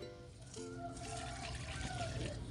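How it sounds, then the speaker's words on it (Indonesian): Water trickles and splashes steadily onto broccoli plants in a small home garden, a soft, continuous pouring sound with no speech. "brokoli kita siram-siram seperti ini ya"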